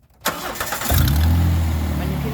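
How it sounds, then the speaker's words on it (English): A 2010 Jeep Wrangler Sahara V6 with an upgraded AFE intake and free-flow exhaust cranks briefly, then catches and settles into a loud, steady idle rumble close by. "you can hear the V6 roar into life"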